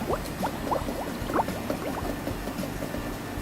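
Slurpee machine dispensing a frozen drink into a cup, a steady bubbling, gurgling pour with repeated soft glugs and air pops, fairly loud and close throughout.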